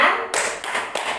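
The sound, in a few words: rhythmic group clapping, Tepuk P2K2 clap chant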